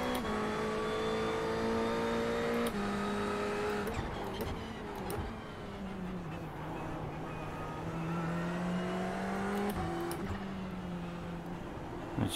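A Ferrari 488 races at Long Beach in the video game iRacing. The engine drones steadily and climbs in pitch through the gears, with sharp shifts and lifts in a close, continuous in-car engine note.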